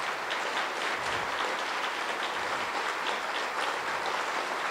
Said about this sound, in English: we could give them applause